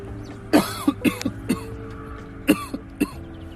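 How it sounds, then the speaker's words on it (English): A series of short, sharp coughs, about six or seven in irregular bursts, close to the microphone over a low background hum. "Excuse my coughing."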